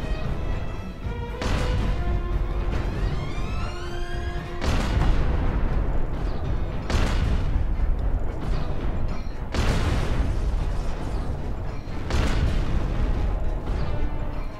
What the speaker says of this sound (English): explosion detected on enemy force